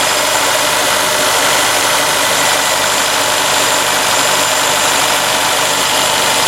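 A 2011 Nissan Altima 2.5 idles steadily just after new spark plugs, a close, even engine hum with a smooth, unbroken drone for the whole stretch and no talking.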